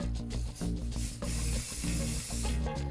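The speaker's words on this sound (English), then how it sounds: "spray our activator spray" Activator spray hisses onto an epoxy and walnut fishtail charcuterie board in a run of short, close aerosol bursts with slight pauses between them.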